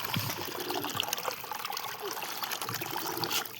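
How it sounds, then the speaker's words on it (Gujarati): Water trickles and splashes steadily as it is poured out for pigeons to drink, a close, continuous hiss with small splashing spikes and no talking. "પાણી નાખી દઈએ મિત્રો."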